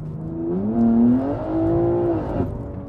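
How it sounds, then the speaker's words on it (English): A 1000 HP stage 3 BMW G80 M3 accelerates hard with its wheels spinning. The engine note climbs in pitch, dips at a gear change and rises again before cutting off, loud and heard from inside the car. "Imagine that, like, we are spinning up all four wheels, like, in third gear, bro."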